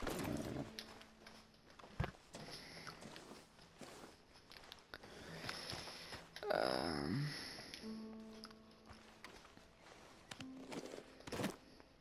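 Horse hooves clip-clop at an uneven pace amid a busy mix of other Red Dead Redemption 2 game noises, with a few sharper knocks standing out.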